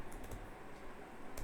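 Soft, quick typing on a computer keyboard during a coding session, with irregular key clicks and a few louder taps, faint and close with no talking.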